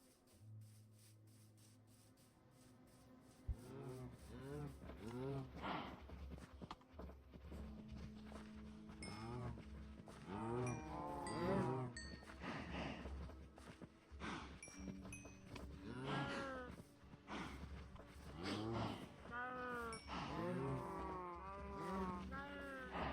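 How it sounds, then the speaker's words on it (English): Several cows moo repeatedly in the video game Minecraft, overlapping calls at varying distances along with faint footsteps and ambient game sounds. "Let's go get more cows."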